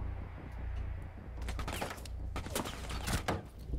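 Gunfire in Rainbow Six Siege, quiet at first, then a flurry of sharp shots and bursts with clustered impacts toward the end, fairly faint overall.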